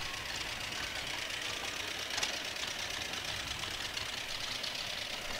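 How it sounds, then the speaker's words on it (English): A John Deere 52B tractor idling at a fall festival parade in Louisville, Illinois, with a faint, steady knocking engine beat under broad hissy noise, heard from a distance without talk. "The John Deere sound is just... It doesn't sound like anything else, no, does it? You can't mistake it."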